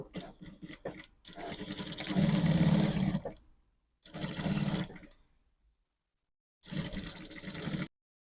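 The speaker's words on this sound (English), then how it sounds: "I'll stitch the armhole area." A sewing machine stitches the armhole of a cowl neck top in three separate runs of rapid, even needle chatter. Each run stops dead, leaving silence between them, and the second burst is shorter than the others.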